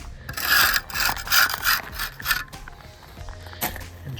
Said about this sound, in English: take your trowel and scrape off the edge